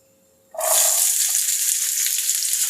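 Chopped small shallot-type onions, about 150 grams, hit hot oil for Chettinad mutton varuval, bursting into a loud, steady sizzle that starts abruptly and holds close and even to the end.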